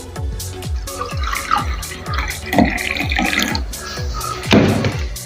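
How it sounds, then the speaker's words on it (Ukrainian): Warm water poured into a container on a lab table, splashing and gurgling close by in irregular bursts, with a few louder knocks and sloshes. "Так, ми заливаємо теплою водою."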